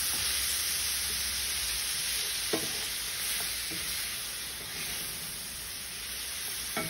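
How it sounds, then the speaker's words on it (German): Ingredients frying in a pan over a gas flame until glassy, a steady soft sizzle with occasional stirring scrapes, close and continuous with no talking. "Das ganze Gedöns wird jetzt auch glasig gebraten"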